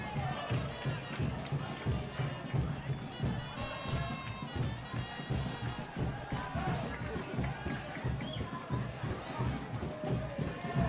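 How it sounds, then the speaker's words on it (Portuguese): A football crowd at Estádio Lucídio Frazão during the Chapadinha vs Pinheiro match in the 2024 Campeonato Maranhense, a dense continuous roar of chanting and cheering, steady and fairly distant, with commentators talking over it. "Aí você vê a torcida fazendo aquele agito, vibrando, tá cantando muito aqui no estádio Lucídio Frazão"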